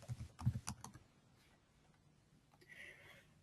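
Keystrokes on a computer keyboard as a search term is typed into a search box, a quick burst of clicks up front followed by a few sparser taps, close and fairly quiet.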